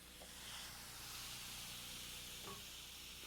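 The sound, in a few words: shrimp kebabs sizzling on a George Foreman grill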